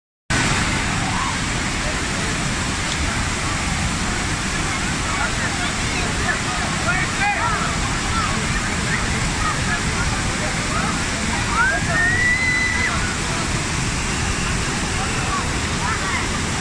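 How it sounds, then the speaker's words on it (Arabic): Steady, loud rush of a waterfall on a river in Iraqi Kurdistan fills the whole stretch, a dense continuous roar with no pauses. "هذا الشلال وهذا شايفين هناك"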